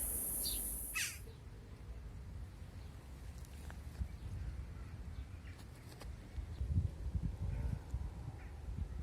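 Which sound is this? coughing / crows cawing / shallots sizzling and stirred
crows cawing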